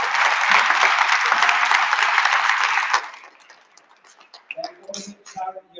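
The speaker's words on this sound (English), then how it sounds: "So first of all, big applause for Bill" An audience at a Media Lab hackathon winners event breaks into loud, steady applause for about three seconds, then the clapping stops abruptly and scattered faint clicks and shuffles remain.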